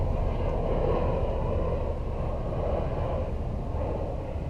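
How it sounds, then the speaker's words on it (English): An Osprey tiltrotor aircraft passes overhead near North Carolina's Intracoastal Waterway, a loud, steady broadband engine roar that holds throughout with no talking. "they have the Osprey airplanes that can take off and land vertically. We saw a few fly over while we were there."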